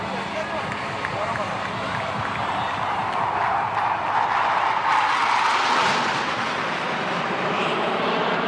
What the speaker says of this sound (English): Hawk Mark 132 advanced jet trainer